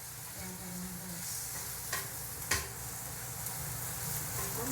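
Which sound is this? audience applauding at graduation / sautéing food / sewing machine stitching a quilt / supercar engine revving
sautéing food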